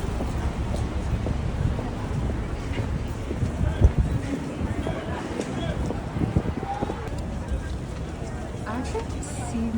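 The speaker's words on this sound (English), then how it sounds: "I'm walking against the wind. The wind here is crazy." Strong wind on a New York City street buffets the microphone with a continuous, loud, low rumble and gusty roar across the whole stretch, with faint, indistinct voices mixed into the noise.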